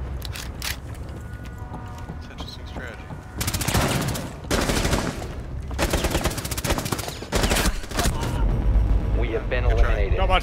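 Bursts of gunfire in a Rainbow Six Siege team deathmatch on the Kanal map, several volleys of rapid automatic shots separated by short pauses, loud and close, with players talking in between.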